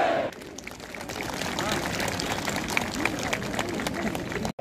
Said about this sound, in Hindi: आप सभी लोग हमारे सभी अतिथियों का एक बार जोरदार तालियों के साथ स्वागत कीजिएगा।